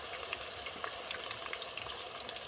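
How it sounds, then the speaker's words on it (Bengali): Thin potato chips fry in oil over a high flame, a faint, continuous bubbling sizzle with light scattered crackles and no voices. "তোমরা দেখতেই পাচ্ছ খুব সুন্দরভাবে এটা ভাজা হচ্ছে"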